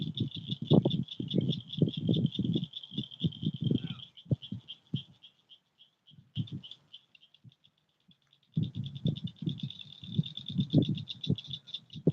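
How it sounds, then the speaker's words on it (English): Frogs call at night beside a fishing bank, rapid pulsing croaks in bursts with a steady high insect-like trill, pausing mid-way before resuming, fairly close and moderately loud. "Frogs are starting."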